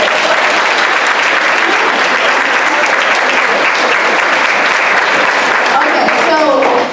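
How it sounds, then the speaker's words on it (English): Loud, sustained applause from a conference audience at a fashion and beauty panel, a dense continuous roar of clapping that holds steady throughout before tailing off at the very end. "Can we clap for that?"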